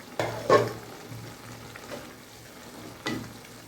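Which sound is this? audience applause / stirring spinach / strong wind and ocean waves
stirring spinach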